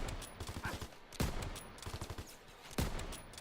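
A sniper rifle fired without scoping in a first-person shooter: two sharp, loud cracks about a second and a half apart stand out over a busy background of game noise and footsteps.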